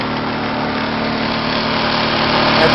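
A Champion 2000-watt inverter generator runs inside a custom noise-reducing box mounted on a vehicle hitch, giving a loud, steady mechanical hum with a slight buzz that holds even throughout and swells a little near the end, with no voices.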